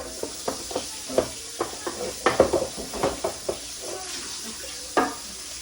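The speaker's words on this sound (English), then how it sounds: "this looks dusty and rusty and crusty, but I'm gonna wash it" A dusty, rusty cooking pot is scrubbed under a running kitchen tap, with a steady water rush and repeated knocks and scrapes of metal against the sink.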